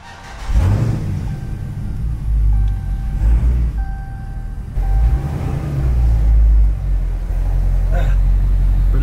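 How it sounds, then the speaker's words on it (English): A second-generation Dodge Charger Scat Pack's engine rumbles low and close, revving up in bursts as the car pulls out, with faint speech-like tones over the drone. "Let's go ahead and pull this car out"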